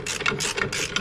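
A ratchet wrench tightens motorcycle motor mount bolts on an M8 Touring bike, giving three quick bursts of rapid pawl clicking in a close, fairly loud one-second run with no talk.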